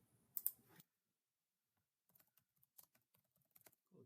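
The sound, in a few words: computer mouse clicking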